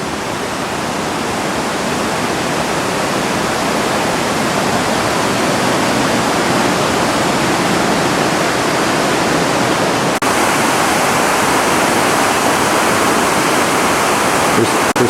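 Loud, constant rushing of a river near Machu Picchu in Peru, broadband white water roaring steadily without pause, close and unbroken throughout.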